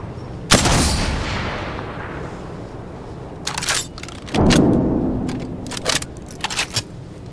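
Cluster bombs fire in Apex Legends, a hard close blast followed by a long rumbling decay, then a second heavy burst around midway and several sharp crackling impacts trailing after it.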